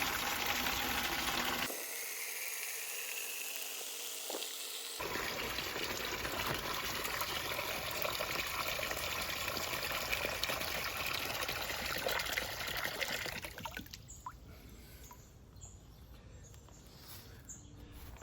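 Water runs into a container at a rainwater collection area, a steady close rushing and trickling that briefly changes tone early on, then continues and softens toward the end as the container fills.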